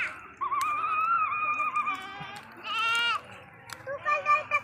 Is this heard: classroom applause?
no